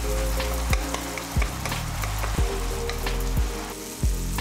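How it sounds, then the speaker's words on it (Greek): Rice sautéing in a pan with salt, pepper and curry, a loud continuous sizzle with periodic stirring scrapes every second or so, over faint tonal background music, with no talking. "Προσθέτουμε το αλατοπίπερο και το κάρι όσο σοτάρουμε το ρύζι."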